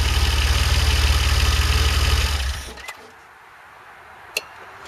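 A DeLorean engine started from the engine compartment runs loud and steady at idle for a little over two seconds, then cuts off, leaving quiet room noise and one brief click.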